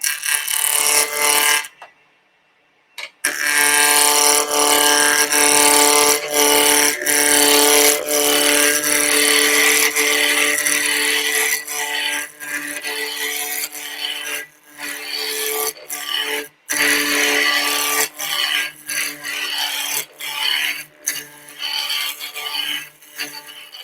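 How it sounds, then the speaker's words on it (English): A wood lathe spins near 2000 RPM while a spindle roughing gouge roughs out a spindle, a loud continuous scraping hum with steady tonal whine, briefly dropping out early and stuttering with short breaks later. "So we're going to rough that out. with our spindle roughing gouge."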